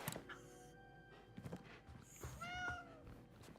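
A cat in the video game Indiana Jones and the Great Circle gives a short, faint, rising meow late on, amid quiet game ambience and a few soft thuds.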